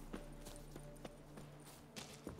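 Horse hooves clip-clop at a walking pace in the video game The Witcher 3, several soft hits over a low steady hum, fairly faint and evenly spaced.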